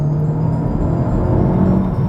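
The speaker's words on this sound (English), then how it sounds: "I'm only in third gear and it's revving." A 2019 Honda Civic Type R revs in third gear, heard from inside the cabin as a loud, steady engine drone with prominent exhaust note that holds throughout without a break.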